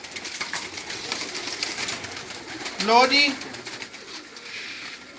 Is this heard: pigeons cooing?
yes